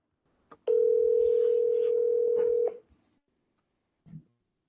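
A single telephone ringback tone sounds when dialing out to an AI agent: one steady, pure two-second beep, close and clear, framed by faint clicks and a brief soft noise afterward.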